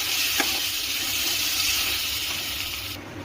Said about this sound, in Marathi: मसाला परतून झाल्यानंतर याच्यामध्ये आपण हे शिजवलेलं डाळ आणि पालक शिजवून घेऊया आणि याला छान मिक्स करून घेऊया